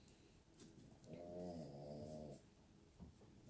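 A sleeping dog snores once in a single drawn-out, rumbling breath, close and quiet against a still room, with a few faint soft rustles before and after.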